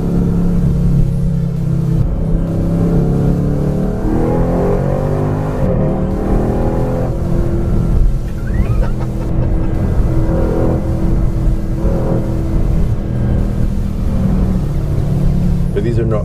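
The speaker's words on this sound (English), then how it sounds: "Can you hear that engine blowing out?" Bentley Continental GT V8 S engine pulling hard from inside the cabin, a loud continuous growl rising and falling in pitch through gear changes, with people talking over it.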